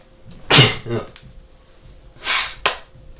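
Two sharp sneezes, a second or so apart, each a bursting breathy blast, with a brief snort in between; no speech.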